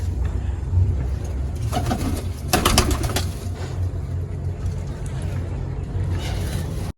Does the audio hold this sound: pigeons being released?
yes